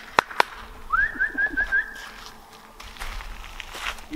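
Birds outside, pigeons or doves, give a soft run of repeated cooing notes at middle distance, preceded by two sharp clicks and set against a faint outdoor hum.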